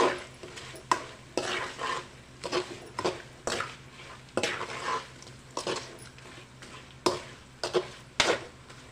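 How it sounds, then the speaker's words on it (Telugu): A spoon stirring a bitter gourd chutney mixture in a pan with the stove off. Repeated scraping strokes come up close in an uneven rhythm, with sharp clinks against the vessel and a faint wet sizzle underneath. "మరోసారి కలిదిప్పుదాం"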